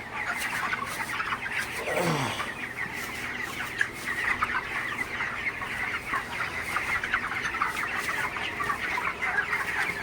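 Broiler chickens about four weeks old cluck continuously inside a hot farm shed, forming a dense, steady chorus of overlapping calls at moderate distance with no pauses.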